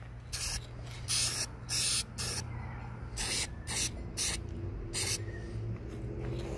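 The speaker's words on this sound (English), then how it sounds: "I'm gonna finish spraying that up." Short bursts of spray paint hiss out one after another onto car dash trim in an irregular rhythm, each lasting about a second, close to the microphone.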